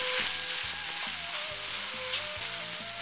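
Carrots and other vegetables stir-frying for chow mein, a loud, continuous sizzle with repeated rhythmic scraping and tossing strokes, close up, with no one talking.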